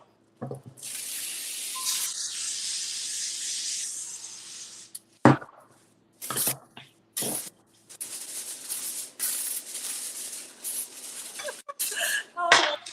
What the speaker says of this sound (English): All right, so you saw Miss Aisha just sprayed it